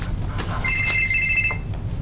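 A telephone rings during a town selectmen's meeting in Boothbay Harbor, a short bright electronic ring standing out over a low room hum.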